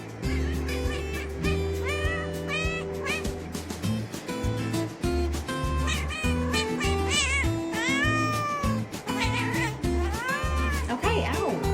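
A kitten that has fallen into a bathtub meows repeatedly, with loud, rising and wavering cries coming close together and clear up close, under a person talking.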